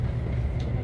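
A tourist railroad train at Royal Gorge Bridge Park in Cañon City, Colorado gives a brief, steady low rumble of rolling railcars, fairly faint and without voices.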